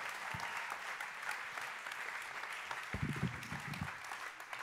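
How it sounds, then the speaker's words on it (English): Church congregation applauding together, a steady broadband wash of clapping from a crowd that holds evenly through the whole stretch. "Okay, come on, clap for Jesus."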